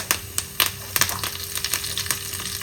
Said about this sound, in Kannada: ಎಣ್ಣೆ ಸ್ವಲ್ಪ ಬಿಸಿ ಆಗ್ತಿದ್ದಾಗೆ ಸಾಸಿವೆಯನ್ನು ಹಾಕ್ಕೊಳ್ತಾ ಇದ್ದೀನಿ